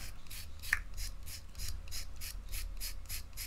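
A hobby knife scrapes a surface in a steady series of short, rasping strokes, about three per second, close and fairly quiet, alone with no speech.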